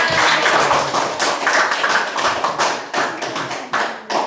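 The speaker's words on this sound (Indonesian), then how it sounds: "tepuk tangan sekali lagi untuk semangat kita" A classroom of students clapping their hands together in a lively, loud burst, rapid overlapping claps forming a steady rhythmic patter for several seconds, with a few stronger accented claps toward the end.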